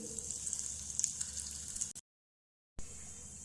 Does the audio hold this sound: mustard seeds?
yes